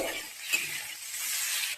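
Gram flour is stirred and fried in a pan with potatoes for ghugni, giving a soft hiss and a single clink of a spoon against the metal, then a continuing quiet sizzle.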